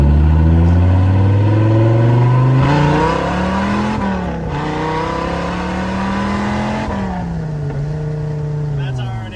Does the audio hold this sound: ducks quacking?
no